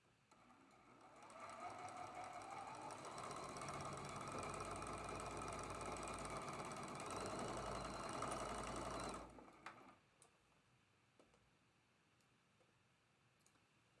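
A close sewing machine hums and clatters for about eight seconds as it stitches the seams of a traditional quilt block, then stops. A few faint clicks follow in the quiet.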